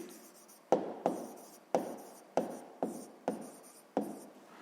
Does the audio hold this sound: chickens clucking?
no